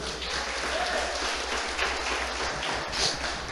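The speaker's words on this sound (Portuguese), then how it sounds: "Aplauda a Jesus." A church congregation applauds in praise during a Portuguese-language healing service. The clapping is steady and somewhat distant, a continuous wash of hands with no gaps.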